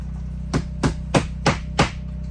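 Five sharp hammer strikes on wood, evenly spaced and close by, each a crisp knock against a low steady hum.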